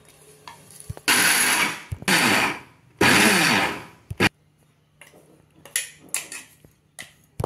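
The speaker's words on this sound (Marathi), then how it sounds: "आता पुढचा राहिलेला अर्धा मसाला आपण याच पद्धतीने बारीक करून घेऊया" Dry spice masala whirring in a kitchen mixer grinder, three loud bursts of roughly a second each with short pauses, followed by quieter clinks and knocks of the jar and lid.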